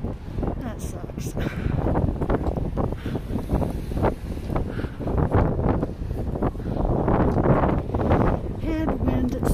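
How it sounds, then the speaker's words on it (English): A strong headwind buffets the microphone of someone cycling outdoors, making a loud continuous rumbling roar that surges and eases, with a voice talking through it. "I'm in a straight ass headwind."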